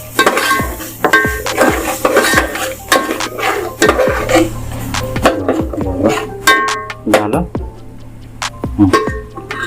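A utensil scrapes and clatters steadily around a pan while dry chicken masala is stirred and mixed, the rhythmic scraping close and loud under a speaking voice.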